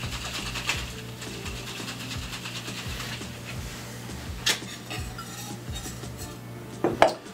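A cocktail shaker holding egg white is dry shaken without ice for a Lion's Tail, giving a steady, rhythmic muffled sloshing and rattling that runs for several seconds, with a couple of sharper knocks near the end.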